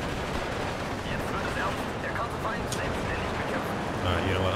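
MG42 machine guns fire in a World War II real-time strategy battle: continuous crackling gunfire and distant bursts, dense and busy, under someone talking.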